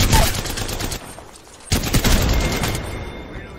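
Bursts of automatic gunfire in the battle royale game Apex Legends, loud and close: a dense volley, a short lull, then another sustained stretch of rapid shots.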